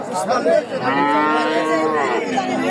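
A cow at a rainy-day livestock market in Bangladesh gives a long, loud, close moo lasting nearly two seconds, with crowd murmur around it.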